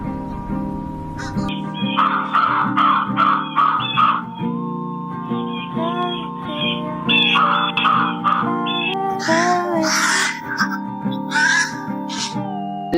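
A crow calling near a barn with loose chickens about, repeated loud harsh calls in bursts, close by and mixed with other bird sounds.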